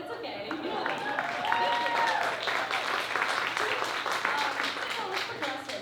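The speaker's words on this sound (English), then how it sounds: "Okay, you can clap, it's okay." Stand-up comedy audience clapping and cheering loudly and steadily throughout, with voices mixed into the applause.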